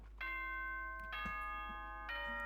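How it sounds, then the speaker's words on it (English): A doorbell chime in the game Danganronpa Trigger Happy Havoc rings out in three clear, sustained tonal strikes, each note lingering before the next, over a quiet low hum with no voices. "Yeah, sure, doorbell noises"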